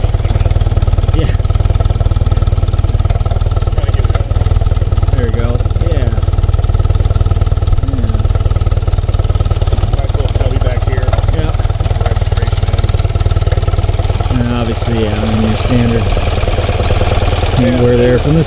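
A 1982 BMW R65LS motorcycle engine runs steadily throughout, a loud, close, continuous rumble with a low throbbing pulse, while people talk over it intermittently.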